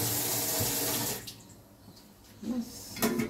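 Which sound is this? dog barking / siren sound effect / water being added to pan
water being added to pan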